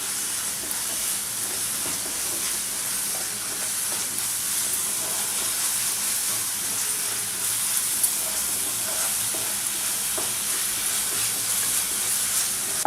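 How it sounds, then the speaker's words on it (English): Masala paste for a creamy mutter paneer gravy sizzles steadily over a high flame while being stirred, a continuous close hiss and crackle with no break and no talking. "You can put it on high flame, but you have to constantly stir it so that this paste doesn't catch at the bottom."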